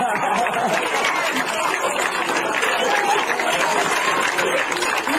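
A stand-up comedy crowd applauds Jeff Arcuri with thick, continuous clapping and a little chatter, holding at an even, full volume throughout.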